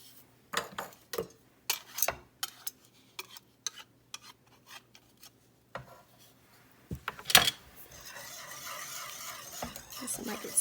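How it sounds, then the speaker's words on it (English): A whisk clatters against a bowl as chocolate pie filling is mixed, a series of sharp irregular metal taps and scrapes close by, building into steadier, faster whisking toward the end. "I think I'm gonna switch over to my whisk."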